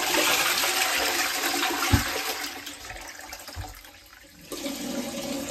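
A newly installed toilet, not yet fixed to wall or floor, flushes with a loud rush of water that tapers off and then becomes a softer refill trickle, heard close with no talking.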